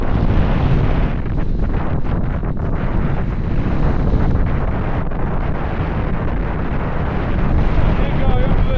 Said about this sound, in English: It wasn't supposed to be this windy.